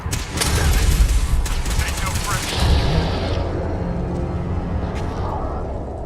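Shotgun blasts in Fallout 4 ring out amid a dense, loud fusillade of overlapping gunfire, with heavy booming hits throughout and a voice speaking over the chaos.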